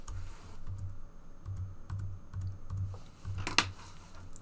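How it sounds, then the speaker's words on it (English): Rapid keystrokes on a computer keyboard come in steady bursts with brief pauses, close and clear, ending in a louder cluster of clacks. "You can try and type it out."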